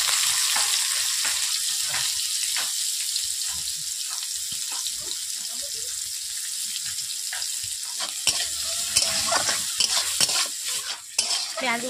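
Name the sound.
chopped onions frying until reddish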